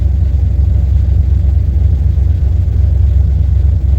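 Close-up, a car engine running on FiTech fuel injection settles into a steady idle near 1,000 RPM, a deep continuous rumble with an even pulsing beat and no voices over it.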